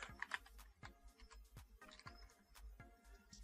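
Irregular keyboard typing, close and fairly quiet, with bursts of clicky keystrokes and short pauses between them. No one speaks.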